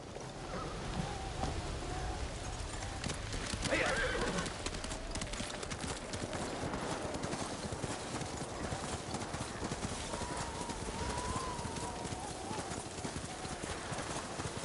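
Rhythmic horse hoofbeats in the video game Ghost of Tsushima clip-clop steadily on ground, close and continuous, with wind-like noise and occasional voices talking over them.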